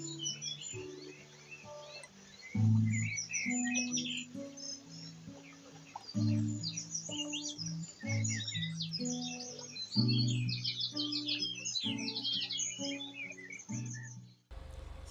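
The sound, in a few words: bird chirping, with babies in a nest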